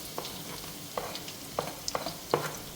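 Cut garlic dropped into a hot pan with ginger for a beef roast, giving a soft, steady sizzle broken by several sharp spoon clinks and scrapes as it is stirred.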